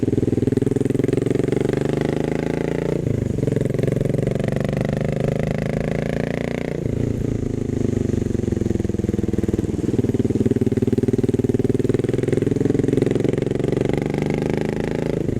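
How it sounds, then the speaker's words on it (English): Royal Enfield Continental GT 535 café racer, a later Bullet single-cylinder engine bored out to 535cc with electronic fuel injection and bigger valves, runs loud and close with a steady thumping drone, its pitch rising and falling a few times across the clip. "this engine is a later bullet engine and it's bored out to a 535cc with electronic fuel injection"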